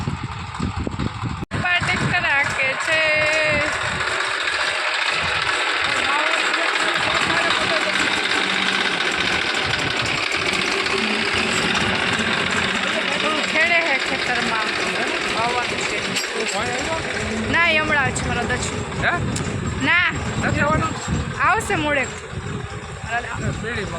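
A tractor engine chugs loudly and steadily close by, with voices talking and shouting over the rumble throughout.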